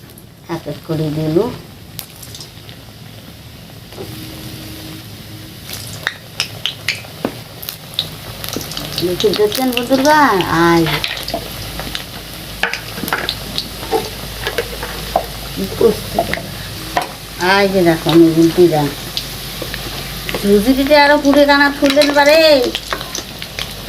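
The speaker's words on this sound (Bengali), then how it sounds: "মুই এলা তেলত ভাজি চাং" Gujiya (pidukiya) sweets fry in hot oil with a steady crackling sizzle that continues throughout, while a person talks intermittently over it.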